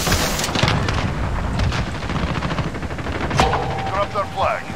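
Rapid automatic gunfire rattles in Call of Duty Modern Warfare multiplayer, dense bursts of shots with booming echoes, close and loud, with game sounds layered in.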